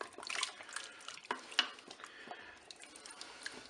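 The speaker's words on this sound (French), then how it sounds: "je mélange le tout au fur et à mesure" Spoon stirring pork chops in tomato-based charcutière sauce inside a Cookeo cooker, soft scraping and wet sloshing strokes in an irregular rhythm, faint and close with light sizzling beneath.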